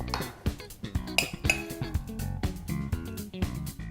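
Pea puree spooned into a ramekin in a home kitchen, heard as repeated sharp clinks and taps of a utensil against the dish, close and fairly loud, in an uneven rhythm.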